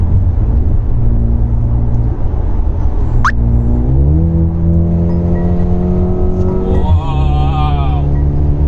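A 2021 Mercedes GLA 35 AMG launches hard and accelerates, its engine note climbing steadily through gears with a shift break midway, loud and close, with a voice talking over it.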